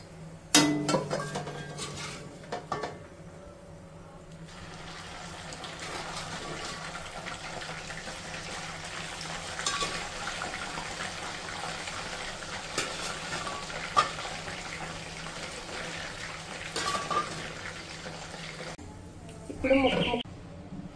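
Chicken pieces fry in a pan for pickle with a steady, continuous sizzle throughout, broken by a few clatters near the start and end while a person talks over it.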